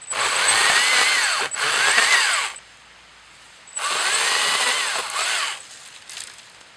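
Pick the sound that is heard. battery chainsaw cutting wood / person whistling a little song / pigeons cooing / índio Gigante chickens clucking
battery chainsaw cutting wood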